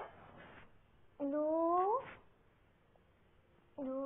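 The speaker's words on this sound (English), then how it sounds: "She meowed at me." A cat meows twice in a quiet room: a rising, drawn-out meow of nearly a second, then a second meow beginning after a pause, both clear and close.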